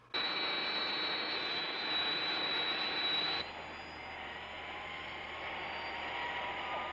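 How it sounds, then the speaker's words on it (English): A loud, steady jet engine roar with a high whine, dropping slightly in level partway through but continuing without pause. "There must be an aircraft in the vicinity."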